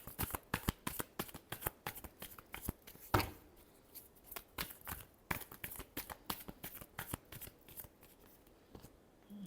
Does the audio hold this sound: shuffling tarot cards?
yes